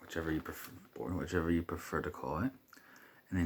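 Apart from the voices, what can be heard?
No everyday noise stands out behind the speech.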